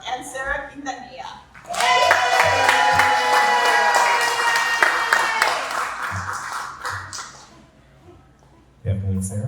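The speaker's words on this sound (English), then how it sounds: "So let's give a warm applause for these talented duos, Rey Guevara and Sarah Quintanilla." An audience at a songwriter showcase breaks into applause that swells quickly, holds for several seconds and then fades, with a voice speaking before and after it.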